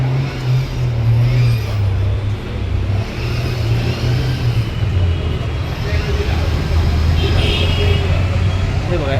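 A children's ride-on toy Thar car with lights, which can be driven by remote control or by hand, rolls along with a steady low motor hum. People talk over it the whole time.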